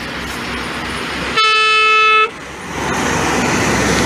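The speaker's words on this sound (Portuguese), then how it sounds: "E essa buzina foi pra mim" A passing truck on a roadside by a market sounds one loud, steady horn blast lasting about a second over constant traffic rumble.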